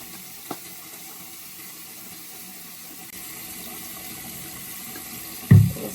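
Water runs steadily from a tap during washing with soap and a Moroccan hammam mitt, a soft continuous hiss with a faint knock early on and a brief louder thump near the end.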